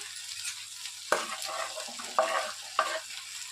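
Chopped tomato added to brinjal frying in a pan, with a steady hissing sizzle and several sharp scraping stirs from a spoon against the pan.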